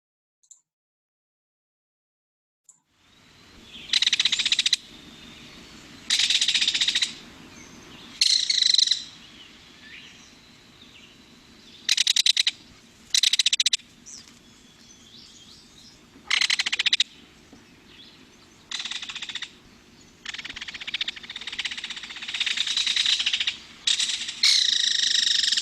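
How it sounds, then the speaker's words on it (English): Belted kingfisher calling outdoors, a series of loud, dry rattling bursts repeated at irregular intervals over a low steady background hum, with no voices. "It is the belted kingfisher."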